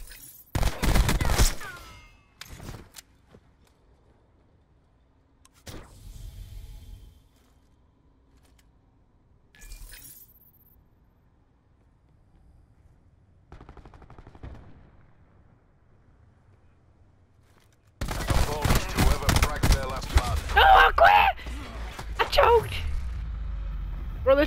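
Pistol gunfire in a video game, with bursts of sharp, loud shots in quick succession at the start and a dense barrage near the end, broken by scattered single shots and someone talking.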